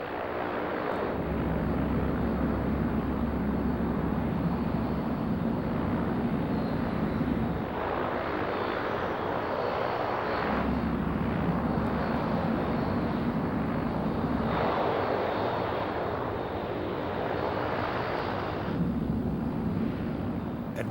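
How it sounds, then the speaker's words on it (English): A Lockheed P-3 Orion turboprop takes off on an easterly course, its engines a loud, continuous roaring drone that swells and eases in waves for the whole span, close and dominant with no speech. "At 110 knots, Lieutenant Alan Poremba pulls back on the stick and the Orion is airborne."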